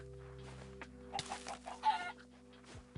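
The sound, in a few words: chicken clucking in Minecraft video game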